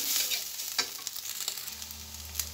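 Potatoes and rohu fish roe stir-frying in a pan, a steady bright sizzle broken by several sharp scrapes and clacks of a utensil stirring and breaking up the clumps, with a low hum entering near the end.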